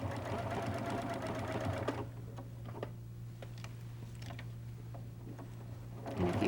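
A sewing machine stitches applique on a quilt, a steady close mechanical whir for about two seconds, then stopping into quiet handling clicks before starting up again at the end.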